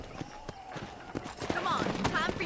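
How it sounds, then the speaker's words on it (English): Horse hooves clip-clopping as a rider sets off in Red Dead Redemption, a quick irregular patter under an ongoing voice and game sounds. "let's see if you can still ride a horse"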